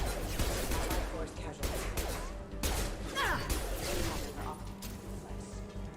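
Pistol gunfire in Mass Effect 2 during a firefight against security mechs, several sharp shots and impacts spaced irregularly among combat clatter and whooshes, with voices underneath.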